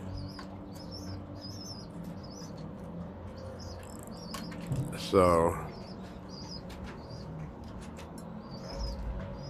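A wild pigeon flaps its wings in a brief, loud burst at a backyard coop, with faint cooing and a voice heard over steady outdoor background noise.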